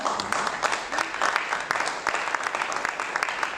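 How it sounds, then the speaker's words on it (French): A conference audience breaks into a dense, steady round of applause, moderately loud and continuous, with occasional sharper claps standing out. "Je lui transmettrai vos applaudissements"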